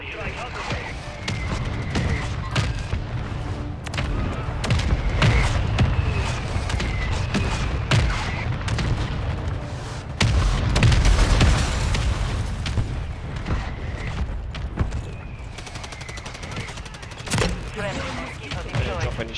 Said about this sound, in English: Hostile motor strike near your position.